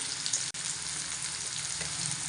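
Hyacinth beans (ghevda) frying in a pan for a village-style vegetable dish, giving a steady, close, continuous sizzle with no talking.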